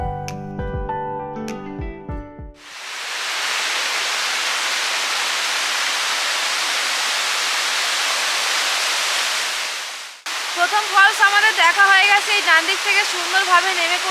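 A waterfall about twelve kilometres from central Shillong in Meghalaya's East Khasi Hills, still flowing well in winter, roars as a steady broad rush for several seconds. It is cut off abruptly, with a musical passage before it and another after.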